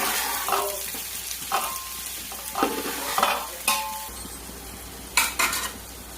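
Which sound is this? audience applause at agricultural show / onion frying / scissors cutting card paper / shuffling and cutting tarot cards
onion frying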